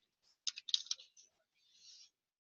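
A few quick bursts of computer keyboard keystrokes as an address is typed, close and clicky, followed by a brief soft rustle.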